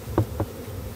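Bees buzzing during a coffee-blossom honey harvest, a continuous close hum with a couple of louder passes as insects fly near, heard without talk.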